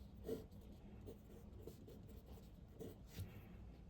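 Pencil scratching and sketching on paper while a triangle is drawn for a geometry construction, a steady quiet rubbing texture with a few slightly firmer strokes, close and alone.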